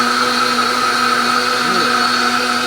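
Vitamix blender whirring at high speed while blending almonds and dates into milk, a loud, steady motor whine filling the whole stretch with no voices.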